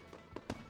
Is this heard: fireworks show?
yes